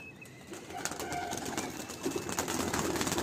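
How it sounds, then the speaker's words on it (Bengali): Pigeons being flown at a Madrasi kabutar tournament in West Bengal, with faint cooing and fluttering buried in a steady, noisy outdoor wash. "এই যে পায়রা"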